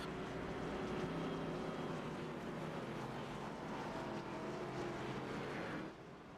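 Stock cars roaring off the line at the green-flag start of a Martinsville racing game event, a dense, steady engine drone holding loud throughout before easing at the end.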